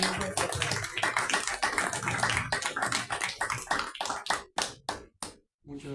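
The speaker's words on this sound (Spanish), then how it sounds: "Recibimos al compañero David Jiménez con un fuerte aplauso" An audience at a talk on the Túpac Amaru revolution gives a warm round of applause for a speaker, dense clapping that thins into a few scattered claps before stopping.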